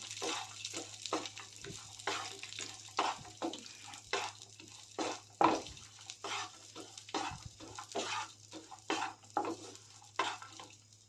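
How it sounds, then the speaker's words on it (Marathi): Cashews, raisins and pistachio slices frying in ghee in a pan, with a soft steady sizzle under repeated scraping strokes of a spoon, close and moderately quiet, and a low hum running throughout. "हे सर्व तुपामध्ये परतून घेते"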